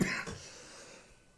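A single short, rough cough at the start, followed by quiet room noise and a faint thump.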